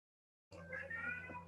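A female cat meows nearby with a drawn-out, wavering call, faint and alone without any talk.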